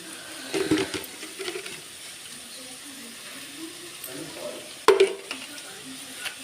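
Potatoes frying in a pan with chilli powder for a fenugreek potato curry, a steady soft sizzle with a few stirring scrapes and one sharp clack near the end, moderately close.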